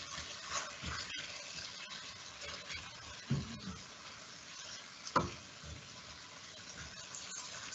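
Ground pork with garlic sizzles steadily in a hot pan, a continuous close crackle with a few louder stirring scrapes and clacks.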